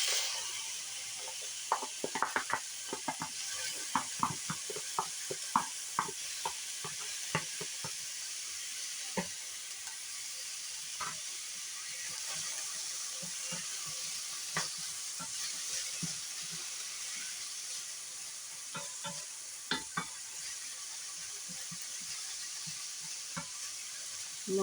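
Vegetables for vegetarian fried rice are stir-fried in a hot pan, with continuous soft sizzling and hiss under frequent clicks and scrapes of a spatula stirring, steady and fairly quiet throughout.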